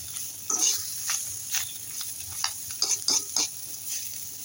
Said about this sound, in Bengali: উল্টা পাল্টা আমি একটু কড়া করে ভাজি করে নিচ্ছি কই মাছগুলো।